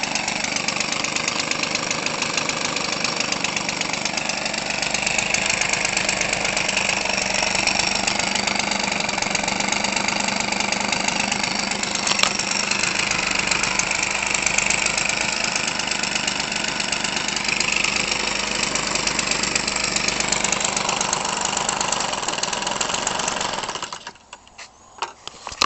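A Weedeater Featherlite new-design 25cc two-stroke engine converted for RC use runs steadily and loud at close range for about 24 seconds, a constant buzzing drone that cuts off abruptly near the end.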